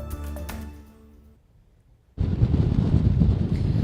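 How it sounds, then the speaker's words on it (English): Musical tones fade into near silence, then strong wind from a cold, rainy Northern California storm on Eastern Avenue suddenly roars across the microphone, loud and gusty for the rest. "Well, Chris, it is cold, it is rainy, and it is windy."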